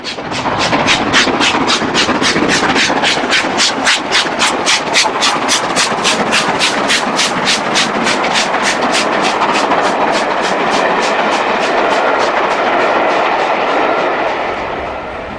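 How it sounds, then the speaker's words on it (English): A Stanier steam locomotive hauls its train past Margam Yard, loud and close, with a rapid, steady run of rhythmic clattering beats over a heavy rumble that fades slightly at the end. "the train scoots past Margam Yard"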